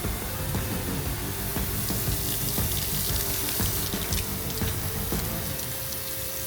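Steady rush of hot water pouring from a tap fed by a water heater on a Toyota Tacoma, continuous and fairly loud, with faint clinks and splashes in the basin and no voices.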